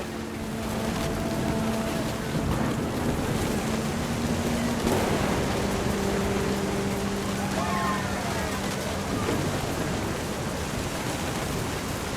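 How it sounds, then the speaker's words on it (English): Rain and distant thunder in the video game What Remains of Edith Finch, a steady rushing wash of rain with low rumbles, sounding under a speaking voice and soft music tones. "Thunder sounded much too close and full of angry power."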